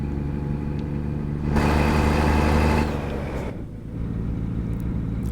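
Heavy truck engine in American Truck Simulator, a steady diesel drone that swells louder as it revs up through a gear for over a second, then drops back and settles into a lower hum, with no talk.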